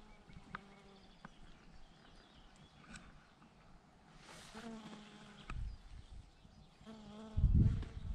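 Bees and other insects buzzing around a field of flowering rapeseed, a soft scattered hum with occasional closer passes, faint rustling and a brief louder bump near the end.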